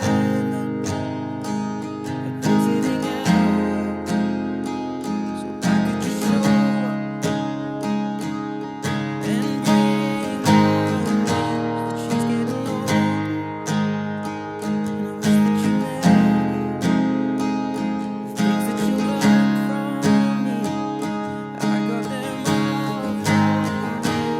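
An acoustic guitar strums a steady chord progression, each chord ringing out with rhythmic strokes and no voice.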